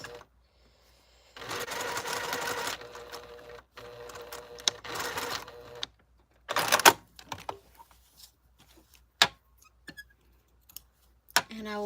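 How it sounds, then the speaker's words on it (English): Sewing machine stitching down the sides of a fabric piece in two sustained whirring runs, followed by scattered clicks and brief bursts as the fabric is adjusted. "then we'll sew the sides"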